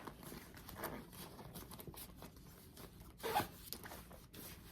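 Zipper opening a side pocket on a Coach leather purse, a few brisk rasping pulls close to the microphone with handling rustle, no speech.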